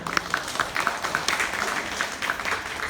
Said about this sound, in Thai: ขอกำลังใจให้เขาหน่อยได้ไหมคะ ปรบมือให้เขาหน่อย